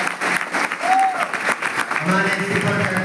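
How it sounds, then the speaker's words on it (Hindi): An audience at an event applauds steadily and loudly, with a dense burst of clapping that carries on without a pause. "आपके लिए तालियां हो जाए।"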